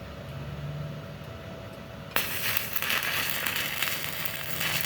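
A Solid 125 welding machine strikes an arc on iron, and after a low background hum the arc bursts into a loud, steady sizzling crackle that continues to the end.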